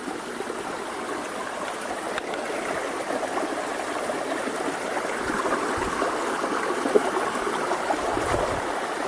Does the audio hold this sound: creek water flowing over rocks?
yes